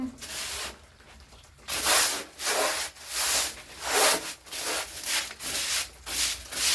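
A dirty sink being scrubbed clean, a close, rhythmic rubbing and swishing in repeated strokes, about ten passes in steady succession with no talk.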